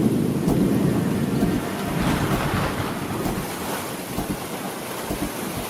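Thunder from a storm approaching in the Amazon jungle rolls as a broad, continuous rumble mixed with rain-like hiss, loud and sustained throughout.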